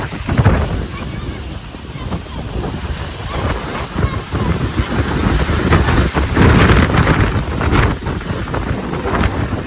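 Strong wind buffets the microphone in a steady, roaring rush with gusting swells, loud and continuous throughout, in a village during a dust storm.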